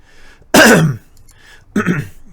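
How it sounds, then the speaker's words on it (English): Two throat clearings, a loud harsh one followed by a shorter, softer one after a brief pause, close up with no talking. "Sorry, clear my throat."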